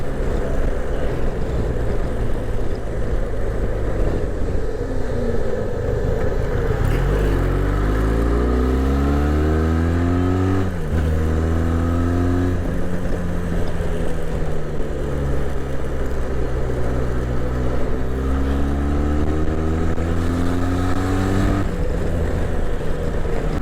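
A motorcycle cruises along a main highway on a bike ride toward Vrindavan, its engine droning steadily while the pitch swells and falls with repeated gear changes and throttle shifts, with constant wind and road roar and no voices.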